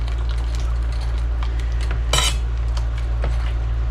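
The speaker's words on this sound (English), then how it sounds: "You want to constantly stir this, scraping the bottom" A spoon stirring a milk mixture in a pan on high heat, scraping the bottom: repeated light metallic scrapes and clinks over a steady background hum, with one louder scrape near the middle, no talking.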